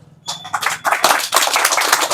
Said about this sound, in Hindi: एक बार जयप्रकाश शुक्ल के इस बात को लेकर के और भी जोरदार ताली होनी चाहिए।